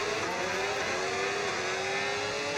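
A loud racing car engine holds a steady high drone with a slowly rising pitch through a formation lap in a racing video game, continuous and close with no talking.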